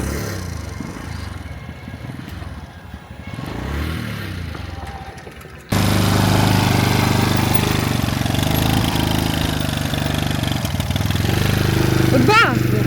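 A motorcycle that has just been started runs in a village setting, its engine kicking in abruptly partway through and then chugging loudly and steadily at close range, with people talking.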